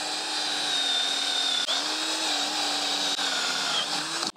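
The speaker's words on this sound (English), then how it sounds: "I've just got a wire brush on a drill, and I'm going to clean that up." A power drill with a wire brush cleans a brush hog gearbox shaft, whirring steadily with the brush grinding against metal, a continuous high buzzing whine with brief dips, close and loud.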